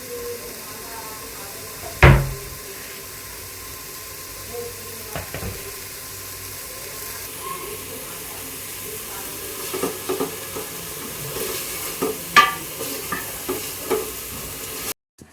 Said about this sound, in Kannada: ಅದು ಪೇಸ್ಟ್ ಇದೆಯಲ್ಲ, ಅದು ಸ್ಮೆಲ್ ಹೋಗೋವರೆಗೂ ಸ್ವಲ್ಪ ಹುರ್ಕೊಳ್ಬೇಕು